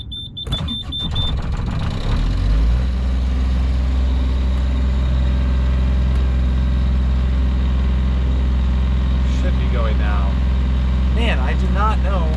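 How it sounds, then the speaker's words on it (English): A sailboat's inboard engine sputters and cranks unevenly for a couple of seconds, then catches into a steady, heavy low idle that drones on, with brief voices faintly heard toward the end. "the engine just doesn't want to seem to start"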